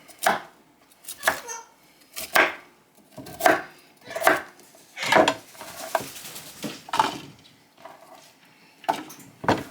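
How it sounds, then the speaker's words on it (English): A knife rough-chops broccoli on a board in a run of about a dozen crisp, fairly loud chops at a steady, slightly uneven pace, with quiet gaps between strokes. "So I'm just cutting the broccoli up"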